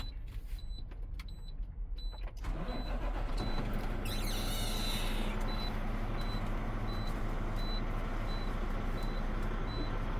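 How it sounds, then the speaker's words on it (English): A truck's diesel engine cranks and catches after a couple of seconds, then settles into a loud, steady idle, with a regular chiming warning beep repeating over it. "I'm gonna start my engine now so I can take my chocks out."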